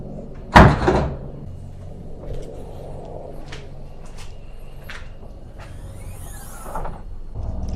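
A Tesla Model 3 front trunk lid shuts with a single sharp thud near the start, followed by quiet room tone and a few faint clicks and rustles.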